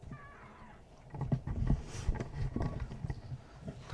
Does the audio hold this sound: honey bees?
no